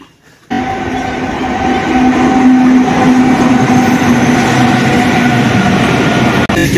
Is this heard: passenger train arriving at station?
yes